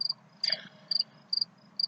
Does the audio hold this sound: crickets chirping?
yes